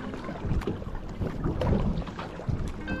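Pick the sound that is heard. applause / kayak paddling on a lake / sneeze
kayak paddling on a lake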